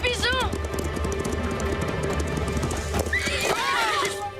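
A cartoon horse on the prairie whinnies twice, once at the start and again near the end, while a steady clip-clop of hooves runs beneath, all close and clear.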